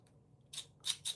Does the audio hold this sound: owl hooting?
no